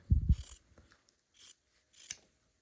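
Scissors trimming quilt block fabric, three or four close crisp snips spaced apart, after an initial thump of handling.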